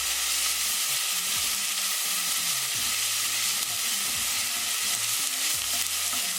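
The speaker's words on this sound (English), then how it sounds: "We're going to cook the tomatoes along with tadka." Tomatoes fry and are stirred into a tadka for moong dal, giving a loud, continuous sizzle with repeated scraping and stirring strokes throughout and no talking.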